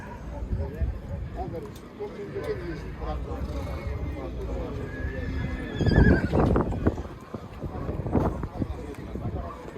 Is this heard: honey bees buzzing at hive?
no